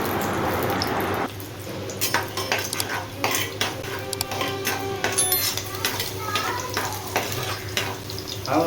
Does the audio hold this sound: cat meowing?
no